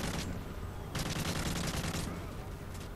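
Bursts of automatic gunfire in the video game Call of Duty Modern Warfare 3, two rapid volleys with a short gap between them, heard at low volume with a voice speaking alongside.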